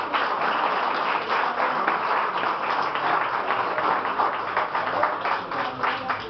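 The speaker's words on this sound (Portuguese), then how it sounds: "Aplauda o nome do Senhor, porque Ele é bom." A church congregation claps steadily in praise during a worship service, a dense, sustained wash of many hands at fairly close range with no talking over it.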